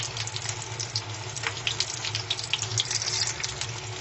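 Keema aloo kebabs frying in a pan make a continuous bright sizzle with crackling pops, steady and close throughout, no talking.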